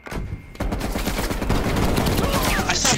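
Loud, dense automatic gunfire in a Call of Duty match, a brief lull at the start, then a sustained volley of overlapping shots and explosions.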